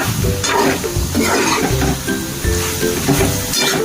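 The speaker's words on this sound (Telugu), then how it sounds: "మొత్తం లివర్ ఫ్రై అన్నిటికి పట్టేలాగా కలపాలి" Chicken liver fry being stirred in a hot pan, a loud, close sizzle with rhythmic scraping strokes of the spatula about every half second, and no voices.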